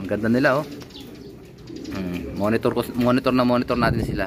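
Racing pigeons in a one-loft race loft coo in repeated low, throaty rolls close by while someone talks over them.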